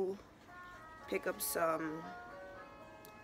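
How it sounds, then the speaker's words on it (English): A doorbell chime plays a short melodic tune alongside a person talking, the tones sustained and ringing under the speech. "That's my doorbell, actually."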